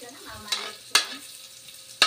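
Oil sizzling and spattering in a frying pan while eskalop cooks, a steady frying hiss broken by three sharp popping splatters, fairly close, with no talk.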